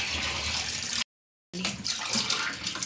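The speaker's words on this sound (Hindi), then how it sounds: "अब इसको हम पानी को फेंक देंगे।" Water poured out of a new clay matka, a loud steady splashing gush that cuts off briefly into silence and then resumes.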